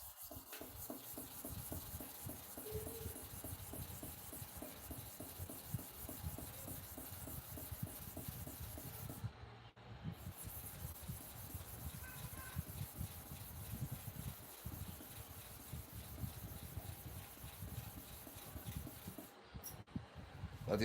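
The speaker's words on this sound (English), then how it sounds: "you can use it to sharpen any type of clipper blade professionally" A hair clipper blade being sharpened professionally, giving a long run of quiet, steady rubbing and rasping strokes that continue almost without a break, with one brief pause partway through.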